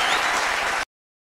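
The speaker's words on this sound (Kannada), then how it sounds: "ಜೋರ ಚಪ್ಪಾಳೆ" A TV show audience applauds a couple being welcomed onstage, with steady dense clapping that cuts off abruptly into silence.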